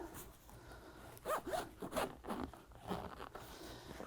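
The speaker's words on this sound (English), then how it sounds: "So I'm just going to unzip the roll bar pad." The zipper on a Jeep roll bar pad is pulled open in several short, close rasping bursts.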